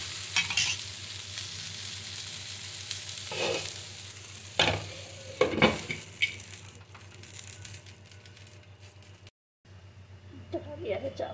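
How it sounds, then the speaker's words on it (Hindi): Okra (bhindi) bhujia frying in a home kitchen pan, a soft continuous sizzle broken by several close scraping stirs, with a voice talking intermittently over it. "किसी भुजिया बना रहे हैं भिंडी की।"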